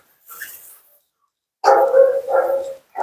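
A Siberian husky lets out a short bark, then after a pause a longer run of expressive howling, talking-style vocal yodels, close and loud during a bath and blow-dry grooming session.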